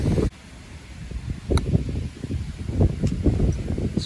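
Gusty wind buffets the microphone on an open golf course during windy matchplay, a steady low roar with rising and falling surges and faint rustling throughout, no talk.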